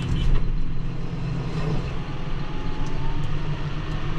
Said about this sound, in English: I'm pulled over here to let a car go by.